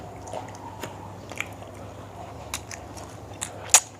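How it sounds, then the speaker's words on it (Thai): Som tam papaya salad with grilled pork and pungent pla ra, eaten for breakfast, gives close, soft intermittent chewing and squishy bites with a few sharper crunchy clicks over a quiet room. "มากิน ส้มตำกับหมูแจ่ว"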